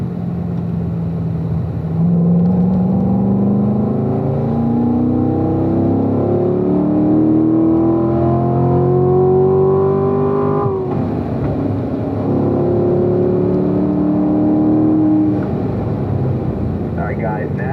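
Race car accelerating down a track straightaway at Spring Mountain performance driving school, engine loud and close with a steadily rising whine through upshifts, continuous throughout.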